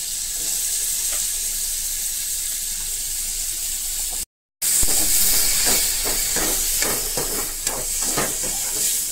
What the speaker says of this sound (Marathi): तर ते आपल्याला आता ह्याच्यामध्ये करायचे, फ्राय करून घ्यायचे आहे।